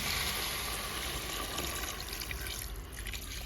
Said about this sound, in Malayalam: ആവശ്യത്തിനുള്ള വെള്ളം ഒഴിച്ചു കൊടുക്കുക